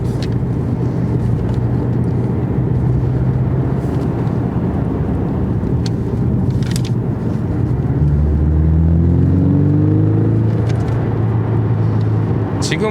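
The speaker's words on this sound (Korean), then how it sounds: "영상에 배기 소리가 들릴진 모르겠는데 배기 소리가 정말 좋네요" A Porsche 718 Boxster S 2.5 cruises at around 3000 rpm, its exhaust a low, steady rumble heard from inside the car. Tyre and wind noise blend in, and the pitch climbs slightly near the end.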